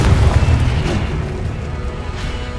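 A Confringo spell explosion in the game Hogwarts Legacy, a loud booming blast that rumbles on with a dense, noisy roar.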